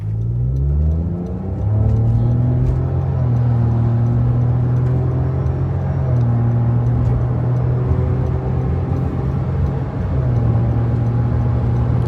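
A remapped 2020 Honda City on a fresh tune pulls hard from standstill to 140 km/h, its engine drone climbing in pitch through several gear changes, loud and close throughout with no talking.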